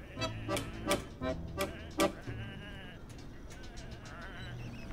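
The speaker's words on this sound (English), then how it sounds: "Come on, these are just sheep." Several sheep bleat in the video game Whateverland, a quick run of close, wavering calls in the first half, then fading to a quieter background murmur.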